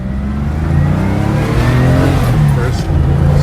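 A 1970 Porsche 911 T engine revs loud and close, pulling steadily under acceleration with a harmonic drone that climbs in pitch, shifts briefly and climbs again.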